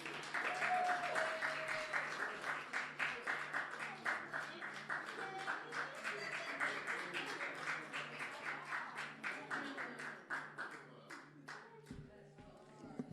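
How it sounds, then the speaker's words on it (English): An audience at a community cultural event in the Bronx applauds steadily for several seconds, dense clapping that is fairly close, slowly tapering off near the end. "Hey, everyone, give a big round of applause to Fanta and Miriam."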